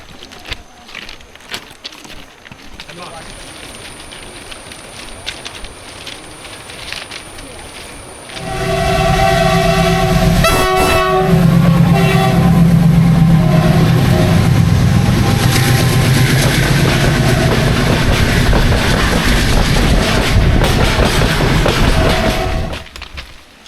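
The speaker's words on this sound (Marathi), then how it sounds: "इथे ट्रेनच असतात मोस्टली मालगाडी असतात आवाज येतो" A large freight train rumbles past close by near Dudhsagar Waterfall for about fifteen seconds, a heavy sustained roar with a tonal horn-like blare, after quieter talking beforehand.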